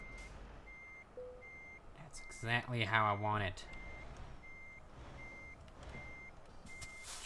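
A truck in the Euro Truck Simulator 2 video game gives regular reversing beeps, evenly spaced and steady throughout, over a low engine hum while someone talks briefly in the middle.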